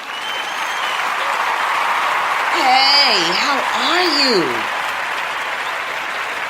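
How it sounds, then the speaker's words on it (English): Studio audience applause welcoming a guest on a live talk show, steady clapping throughout while a voice speaks over it in the middle. "Everybody, give him a round of applause."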